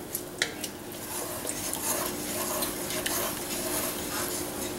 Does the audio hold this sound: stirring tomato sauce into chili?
yes